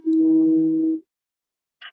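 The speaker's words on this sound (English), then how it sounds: "I have a phone call coming in on my cell phone" A single electronic cell phone ring tone sounds steadily for about a second, then silence, followed by a brief faint chirp.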